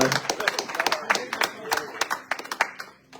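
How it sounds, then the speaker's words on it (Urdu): A church congregation claps during a sermon, a quick irregular patter of many hands close by, mixed with a voice speaking over it. "مارو پھر تالیاں زور دے"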